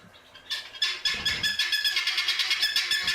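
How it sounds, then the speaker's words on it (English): Guinea fowl calling in a rapid, rhythmic series of harsh, loud cries that build after a brief quiet start and carry on steadily, close by. "here's guinea fowl"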